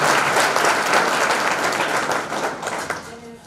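A crowd at a Swaminarayan temple youth camp in Halvad gives loud, sustained applause, a dense wash of clapping that holds steady and then thins out toward the end.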